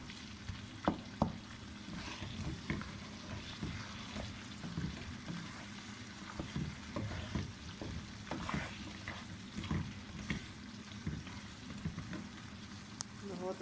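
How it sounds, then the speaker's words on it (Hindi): Mashed tomato masala for goat korma fries in a pan, a low, bubbling sizzle with frequent spoon knocks and scraping stirs, fairly quiet and continuous throughout. "अब इसमें इसको सही फ्राई कर लेंगे। 5 से 10 मिनट तक भूनेंगे।"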